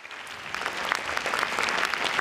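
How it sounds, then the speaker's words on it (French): Applause from attendees at a healthcare policy panel debate as a participant is invited up, a brisk, even wash of many hands clapping steadily across the short span. "quelques applaudissements, s'il vous plaît"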